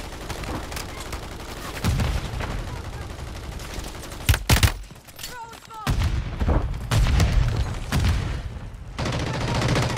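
Rapid bursts of gunfire from Call of Duty Modern Warfare III, loud cracking shots in clusters with a sharp double blast near the middle, over continuous game noise with a voice talking intermittently.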